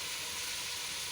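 Chopped garlic and ginger sizzle with whole spices in a hot pan, a steady soft frying hiss for a brief moment.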